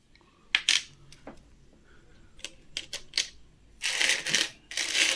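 Indian five-rupee coins from 2015, Hyderabad mint, tipped out of a long-sealed packet, producing a scatter of sharp metallic clinks followed by a dense jingling rattle as the coins pour and shift together, close and bright.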